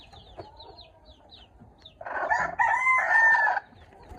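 Chickens cluck and chirp faintly, then a rooster crows loudly and close by, a long harsh call lasting over a second before fading.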